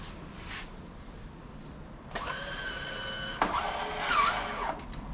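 A Minn Kota Ulterra trolling motor whirs as it deploys and swings to an angle, with a steady electric motor drone starting partway in, a sharp clunk, then a shifting whine before it settles.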